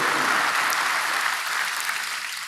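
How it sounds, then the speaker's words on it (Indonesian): Church audience giving applause to God during an Indonesian sermon, a loud, dense, continuous burst of many hands clapping that holds steady throughout. "berikan tepuk tangan untuk Tuhan"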